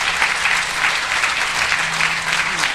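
A large audience claps steadily and loudly, a dense, continuous wash of applause with no break and faint voices beneath.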